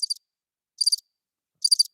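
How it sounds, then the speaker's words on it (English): Crickets chirp in three short, clear bursts spaced evenly apart, each a quick trill standing alone against complete silence. "I don't know if y'all hear that, but I hear crickets."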